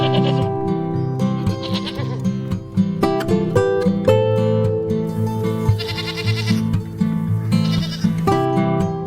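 A crowd of goats in a barn keeps up loud, overlapping bleats, with several voices calling at once in a close, continuous chorus and no speech.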